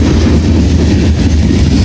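Northbound Norfolk Southern NS 122 mixed manifest freight train with a single DPU rolling past close by, a loud, steady rumble of wheels and cars throughout with no voices.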